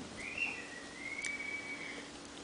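A neighbor whistles from a distance, one sustained, slightly wavering tone lasting a couple of seconds over quiet room ambience.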